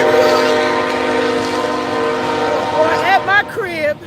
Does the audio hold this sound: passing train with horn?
yes